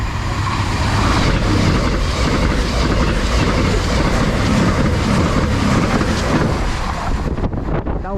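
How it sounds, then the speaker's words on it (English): A CrossCountry passenger service rushes through at close range near Oxford, a loud sustained roar of wheels and rumbling carriages with wind buffeting, easing off only in the final second. "Right, passing through, got a cross-country service."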